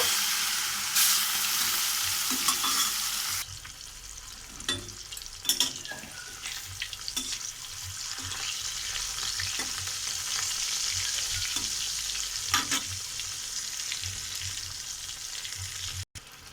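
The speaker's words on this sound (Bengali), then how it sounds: "মাছগুলো ভেজে নেব" Salted, turmeric-rubbed fish fry in hot oil in a wok, a loud steady sizzle with scattered clinks and scrapes of a utensil, the hiss dipping briefly partway through, with no one talking.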